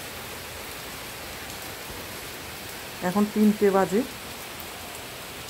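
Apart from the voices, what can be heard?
heavy rain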